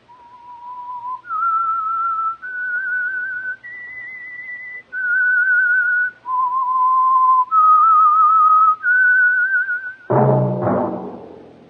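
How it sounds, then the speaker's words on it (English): Whistled theme signalling the Signal Oil radio program The Whistler: a clear, solo melody of about eight sustained notes rising and falling, followed by a sudden loud, dense chord-like burst at the end. "That whistle is your signal for the Signal Oil program, The Whistler."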